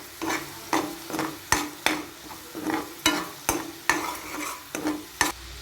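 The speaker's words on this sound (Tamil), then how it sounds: "நல்லா பச்சை வாசனை போகிற அளவுக்கு இந்த இஞ்சி பூண்டு விழுதை வதக்கி விட்டுக்கிறேன்." Ginger garlic paste sautéing in a pan with repeated scraping strokes of a spatula, a regular rhythm of sharp stirs over a soft sizzle, close and clear with no talking.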